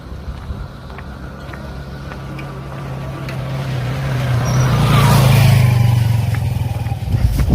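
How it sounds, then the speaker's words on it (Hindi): A motorbike engine drones steadily, growing louder as it nears and revs, then dies away and stops, with no voices over it. "चलो भैया, बाइक रुक गई है।"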